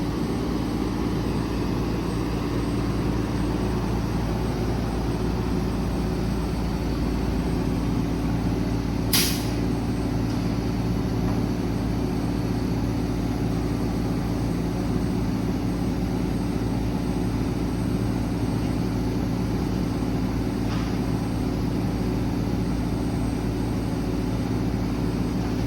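Idling Cummins diesel of a 2011 Ford F750 service truck runs as the Stellar 10621 crane's 21-foot two-stage hydraulic boom extends, a steady broadband engine drone with hydraulic whine throughout, one brief sharp high hiss midway.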